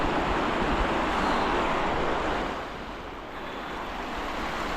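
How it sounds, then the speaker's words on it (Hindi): Snowmelt water flows in a mountain stream near Kullu Manali, a steady broadband rushing wash heard close and fairly loud throughout, easing slightly partway through, with no speech. "ये बर्फ़ में से पिघल कर आ रहा होगा पानी।"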